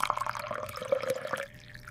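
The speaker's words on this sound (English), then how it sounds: "I pour some cold milk." Cold milk pours in a steady, close trickle with bubbly, dripping splashes that thin out and stop near the end.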